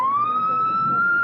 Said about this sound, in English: say now, real police siren, huh?